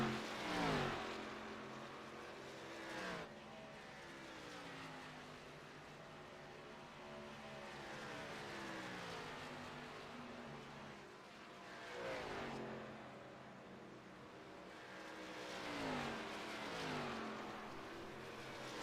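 ARCA stock cars race around Atlanta Motor Speedway, heard from a distance as rising and falling engine whines that swell and fade with each pass, with several distinct surges over a low continuous track roar.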